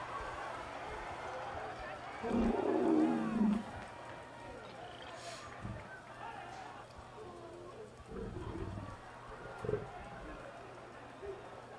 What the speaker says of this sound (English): With the lion sounds in the background.